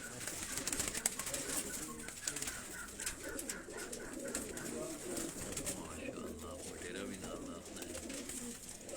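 A Tunia breed pigeon from Sialkot coos in low rolling repeated calls, under continuous talk from a nearby voice.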